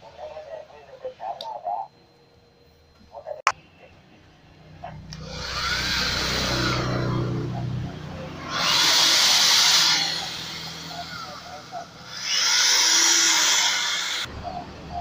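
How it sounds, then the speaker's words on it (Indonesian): Power drill boring a hole while building a VHF flower pot antenna for a handheld radio, three loud sustained bursts of whirring separated by short pauses after a few clicks and handling sounds. "Kita akan lakukan pengeboran di sini."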